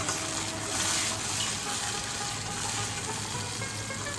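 A paste of ground pointed gourd seeds, coconut and prawns sizzles and spits in hot oil, a dense steady crackle heard up close without any voices.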